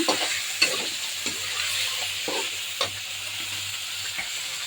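Meat frying in a miniature toy pan while being stirred, a loud steady sizzle broken by scraping stirs and occasional clinks, close up and without talk.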